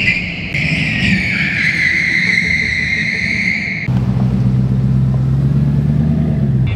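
A multi-million-dollar hypercar drifting on a track, its engine revving hard with a rising, whining tone, then a sudden cut to a deeper, steady engine drone. Loud and close throughout, with no talking.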